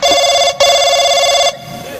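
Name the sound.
telephone ringing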